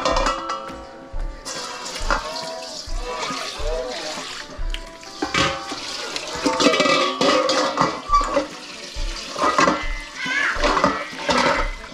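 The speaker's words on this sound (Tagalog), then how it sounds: "Tapos, lagyan natin ng konting tubig." A little water is poured into a pot of pork ribs kaldereta, splashing and trickling over the meat in uneven bursts, with stirring clinks and a voice talking over it.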